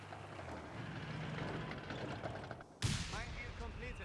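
Mortar fire in the strategy video game Company of Heroes 3, heard as a dense stretch of distant gunfire and explosions, then a brief dip and a sharp nearby impact. Other effects come after it, with a faint voice in the mix.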